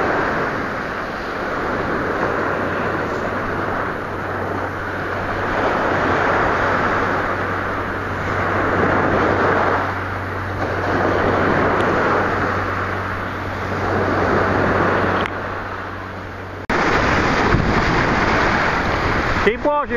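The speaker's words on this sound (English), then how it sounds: "In the high tide, all these waves." Ocean waves at high tide wash in steady, rolling surges along a shoreline, loud and close with wind buffeting the microphone.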